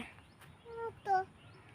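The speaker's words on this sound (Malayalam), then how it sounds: "മയിൽ കുറേ സമയമായി വിളിക്കുന്നു മാവ് മാവ് മാവ് എന്ന് പറഞ്ഞിട്ട് വിളിക്കുന്നുണ്ട്" A peacock calls twice in quick succession, two short nasal wailing cries at moderate distance over quiet outdoor background.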